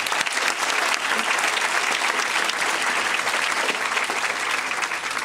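An audience at a graduation ceremony applauds in a dense, steady wash of clapping that holds at an even level throughout.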